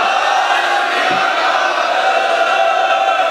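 A large crowd at a farmers' protest gathering roars the Sikh response to Bole So Nihal, a loud, sustained mass shout that fills the whole stretch without pause.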